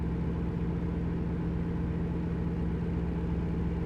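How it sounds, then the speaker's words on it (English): Simulated truck engine in Euro Truck Simulator, a steady low droning hum with a constant tonal whine, continuous and even throughout with no talk. "Shift up again so the engine isn't as loud."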